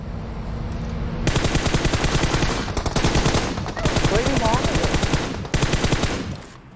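Rapid automatic gunfire in a competitive first-person shooter, loud bursts of fast repeated shots in several volleys separated by short pauses, with a voice talking underneath.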